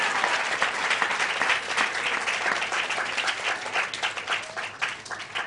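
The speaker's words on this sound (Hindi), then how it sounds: "जोरदार ताली बजाकर हम परमेश्वर को धन्यवाद करें" Congregation at a Hindi Christian worship gathering claps loudly in thanks, a thick, sustained wave of applause from many hands, close and even throughout.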